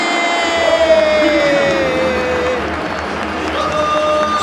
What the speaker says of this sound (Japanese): 大歓声の中